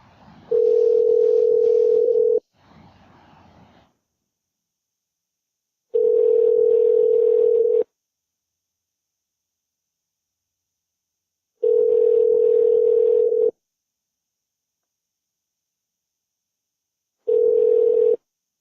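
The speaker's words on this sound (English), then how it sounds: "It's ringing." An outgoing phone call produces a ringback tone, loud and clean, sounding in four long evenly spaced bursts with silent gaps between, after a brief fainter noise near the start.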